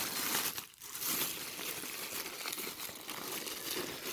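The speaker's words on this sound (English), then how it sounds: "Actually, that's not cardboard, that's just tape. We're just going to pull this down to undo this." Packing tape peeled off the box of a Shark Navigator Lift-Away XL vacuum, a close, quiet crinkly rasp of tearing and rustling packaging with a brief pause partway through.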